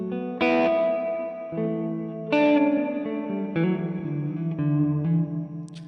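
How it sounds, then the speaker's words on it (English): Electric guitar played through the hall reverb setting of a Mvave Mini Universe pedal, a few sustained chords struck about every second or two, each ringing out in a long, spacious reverb tail, with no talking. "my favourite sound on here is actually the hall reverb"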